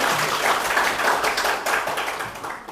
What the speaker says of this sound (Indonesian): Tepuk tangan untuk semua bos.